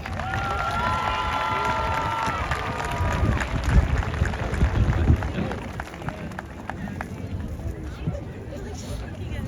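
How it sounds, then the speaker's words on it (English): Crowd at a high school graduation ceremony applauding and cheering, a broad wash of clapping and shouts rising in the middle then thinning, with babble and a few voices underneath. "let's take a moment, graduates, to give a round of applause for the special people in your lives"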